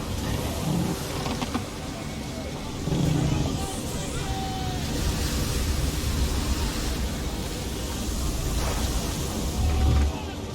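Huge ocean swells roll and crash during a storm at sea in Assassin's Creed 3, a steady broadband roar of surf and wind that surges in waves throughout, with no voices.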